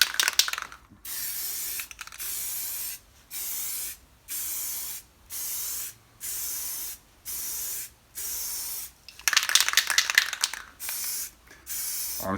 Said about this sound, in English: I'm spraying from about 1 foot away, not too close and not too far either.